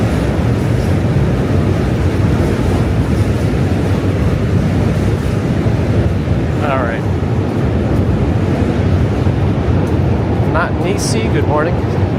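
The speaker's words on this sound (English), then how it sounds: "Train on the opposite side." On an outdoor walk to work in Manhattan, a train passes on the opposite side as a loud, continuous rumble, heavily buffeted by wind on the microphone.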